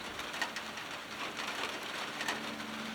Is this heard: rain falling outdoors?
yes